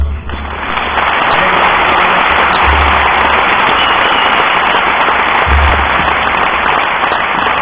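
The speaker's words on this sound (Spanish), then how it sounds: "un aplauso para ellos" A concert audience at Madrid's Palacio de Congresos applauds a performance, a loud, sustained wash of clapping from a large hall that swells after a moment and holds steady throughout.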